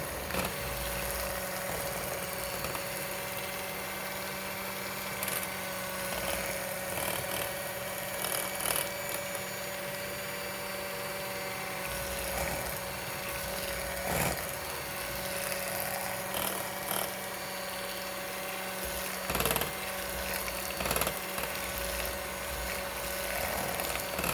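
Electric hand mixer whirring steadily through a no-bake cheesecake filling in a bowl, a continuous buzzing motor hum with small bumps in pitch as the beaters move, close and unbroken without speech.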